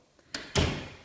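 A house garage door shutting: a light knock, then a heavy closing thud that rings and fades over about half a second, with no talking.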